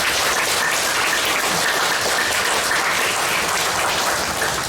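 Steady, dense applause from a church audience in Cheongju fills the whole stretch, welcoming Kim Jong-cheol, an elder of the national federation for North-South unification, before his lecture; no voices stand out.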